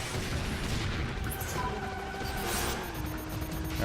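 A continuous booming rumble from an explosion during a Split/Second race with a big rig, loud and sustained across the whole moment with tonal engine-like lines running through it.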